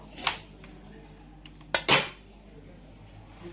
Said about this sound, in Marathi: हे स्मॅश करून घेऊया आता छान असं.